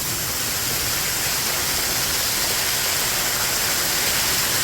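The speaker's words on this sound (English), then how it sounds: "so that when we had a really strong waterfall, it wouldn't hit the basin" Homestead waterfall pouring into a catch basin lined with big stones, a loud, steady, broadband rushing roar that stays constant throughout with no voices.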